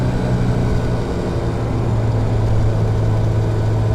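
A 1974 BMW 2002tii with a 5-speed gearbox being driven, its engine a loud, steady, close drone with a strong low hum and no talking.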